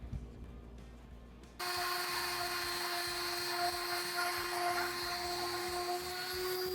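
A power tool fitted with 220-grit abrasive starts up abruptly and keeps sanding and polishing metal. It makes a loud, steady, high whine with a grinding rasp, close by and with no talk. Before it starts there is only faint background noise.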